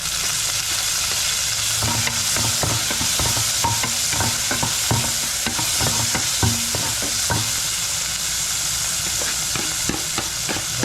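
Onion, tomato and garlic sauté in a hot pan with a loud, steady sizzle, broken by repeated scraping stir strokes near at hand. No voices are heard.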